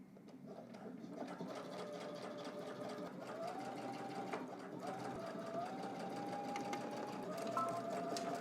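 A sewing machine runs continuously as it stitches a jacket, a steady close mechanical hum and whir with a faint rising whine now and then.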